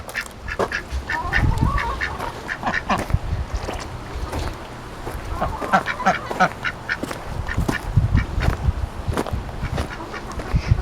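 A group of ducks in a garden quack steadily and close by, with a busy stream of overlapping calls and splashy movement throughout, and no clear talking.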